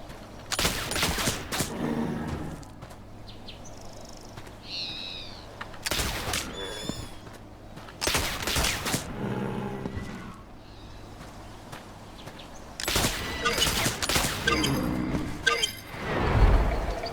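Gunshots in The Oregon Trail (2022) while hunting, with several loud, sharp bursts spaced a few seconds apart and quieter game sounds between them, including faint bird calls, with no one talking.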